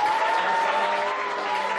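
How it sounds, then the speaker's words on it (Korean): A classroom of students applauds a new student teacher, a steady, even wash of clapping for about two seconds with a faint tone running underneath. "박수!"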